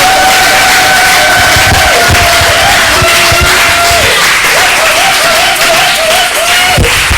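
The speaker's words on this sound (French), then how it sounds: "Est-ce que vous pouvez acclamer pour ces enfants? Acclamez-les." A church congregation applauds and cheers for a group of young children, with loud, steady clapping and crowd noise throughout and a sustained tone gliding above it.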